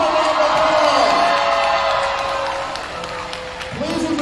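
A large graduation-night crowd at Columbus High School cheers, whoops and applauds the Class of 2023 seniors: a loud, continuous roar of clapping and shouts, with a sustained high whistle or whoop running through it.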